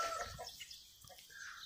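Chickens cluck softly inside a loafing barn, with faint, scattered clucks and rustling at a distance and no talking.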